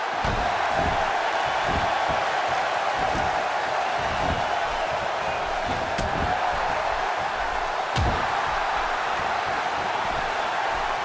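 A large wrestling arena crowd roars in a steady, loud wash of cheering that fills the whole stretch, with scattered thumps and a couple of sharp slams cutting through the din.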